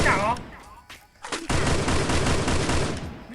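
Gunfire in the battle-royale video game Free Fire: a couple of sharp early shots, then a dense rapid burst of automatic fire that continues loudly to the end.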